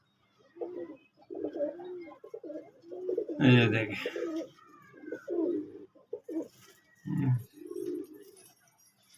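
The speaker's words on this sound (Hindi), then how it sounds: "ऐसा लगता है कि बत्तख है। अजीब से कबूतर है।" Pigeons coo in several short bursts, the loudest coming close and strong midway, mixed in with someone talking in Hindi.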